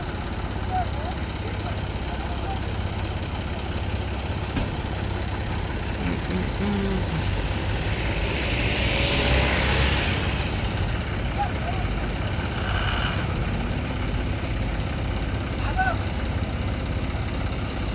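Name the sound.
JCB and tractor engines idling while pulling a loaded lorry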